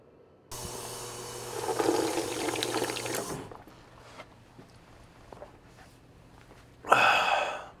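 Rocky Mountain water pours in a steady, fairly loud rush for about three seconds, then goes quiet before a short, stronger splash of pouring near the end.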